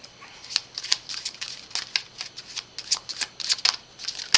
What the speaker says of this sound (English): If you don't like the shuffling, you can always fast forward a little bit.